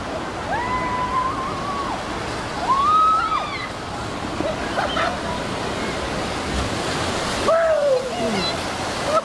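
Water rushes and splashes down a Proslide six-lane mat racer water slide at a water park, a continuous loud roar with faint gliding cries or whoops rising over it now and then.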